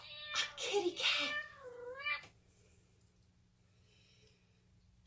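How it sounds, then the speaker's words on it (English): A cat meows in a couple of drawn-out, wavering calls up close, then falls quiet against a faint background hum. "Can you make the sound of a cat?"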